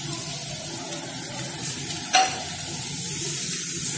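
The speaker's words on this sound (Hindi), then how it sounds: "और मेरे पास कुछ फ्राई किया हुआ कॉलीफ्लावर है वो डाल रही हूँ, जो मैंने पहले से फ्राई किया" Pre-fried cauliflower goes into a hot pan with a steady, close sizzle, broken once by a brief metallic clink midway.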